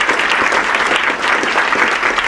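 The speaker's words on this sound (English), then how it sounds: "Everybody, round of applause for Brad." A live audience bursts into sustained applause to thank a speaker, Brad Templeton, after his talk on self-driving cars; steady, dense clapping fills the whole stretch at an even, loud level.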